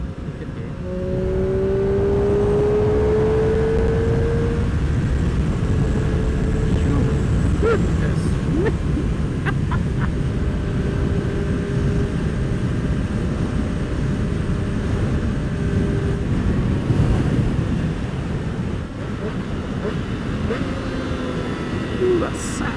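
Triumph Street Triple RS motorcycle engine downshifting through the gears, with loud, close rising and falling rev sweeps and blips over heavy wind rush.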